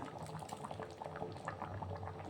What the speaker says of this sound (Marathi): भोगीच्या भाजीला चांगली उकळी आलेली आहे